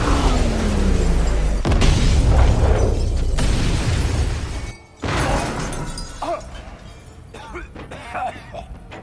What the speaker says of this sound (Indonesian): terjadi ledakan dahsyat yang mementalkan mereka bertiga